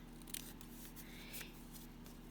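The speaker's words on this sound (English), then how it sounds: "Come back in with your scissors" Scissors snip off paper embellishment tabs in a craft setting, several quiet, close crisp cuts spaced irregularly, no talk.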